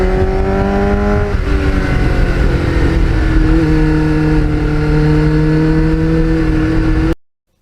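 A Kawasaki GPX750R motorcycle fitted with a Muzzy muffler runs loud and close, its engine droning steadily with a brief rev change before the sound cuts off abruptly.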